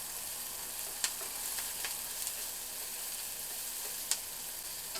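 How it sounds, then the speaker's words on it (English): Steady hiss of onions frying in a pan, with a few sharp scrapes and clinks from stirring scattered through, close by and no talking. "Go ahead and mix up these onions."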